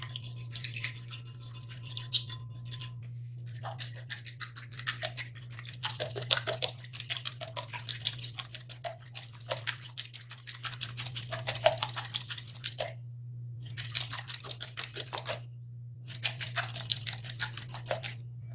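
Egg, milk and oil being mixed in a bowl, a steady run of rapid scraping and clinking strokes repeating close by, with brief pauses between bursts of whisking.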